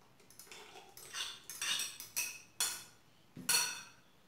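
A spoon stirring a dissolved powdered milk mixture, clinking against the bowl in a series of sharp, close metallic taps that grow more frequent toward the end, alone and fairly quiet.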